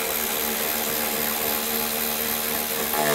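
A power tool runs steadily, loud and close, as it tightens the lower control arm bolts on a 2003-2007 Cadillac CTS front suspension, with no pauses over the whole stretch.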